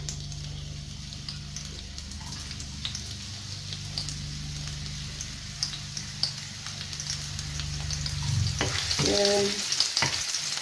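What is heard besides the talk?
onion frying in olive oil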